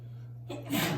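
A single sneeze bursts out after a quiet moment over a low steady hum, brief and fairly close.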